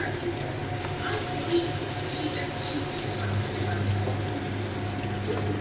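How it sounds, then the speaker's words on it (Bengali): Milk pours into a pan of prawn pulao as a steady, soft liquid stream with a faint background hum, continuous and even for several seconds. "একটুখানি জলের বদলে একটুখানি দুধ দিচ্ছি।"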